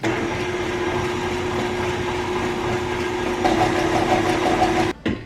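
A KitchenAid stand mixer runs steadily, beating chocolate Guinness cake batter with a whisk attachment. A constant motor hum stays loud and close throughout, then briefly cuts out near the end.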